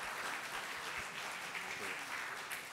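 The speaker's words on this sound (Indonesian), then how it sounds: "kita berikan tepuk tangan" An audience at a seminar applauds, steady massed clapping from a room of listeners that continues evenly throughout.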